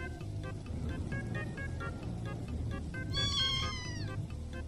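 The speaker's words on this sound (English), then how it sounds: "Meow." Cat meowing inside the video game Nightcare: a drawn-out, wavering meow rises and falls near the end, clear over a steady low game rumble with faint tonal blips throughout.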